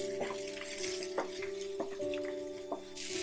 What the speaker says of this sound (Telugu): కొంచెం వేడిగా ఉన్నప్పుడే కలుపుకోండి మొత్తం